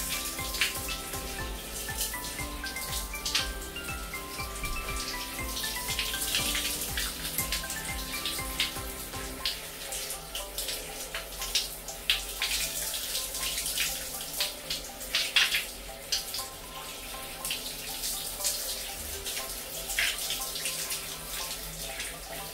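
Running water rinsing a dirty aftermarket car air filter, a steady close splashing and gushing stream that shifts in tone partway through, with no talk.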